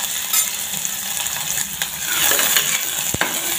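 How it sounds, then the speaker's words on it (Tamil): Chopped onions fry with cinnamon and cloves in a pan, giving off a steady, bright sizzle. A utensil stirs and scrapes them at close range, with a sharp metallic clink near the end, and no one speaks. "நறுக்கி வச்சிருந்த வெங்காயத்தை சேர்த்துருக்கோம்."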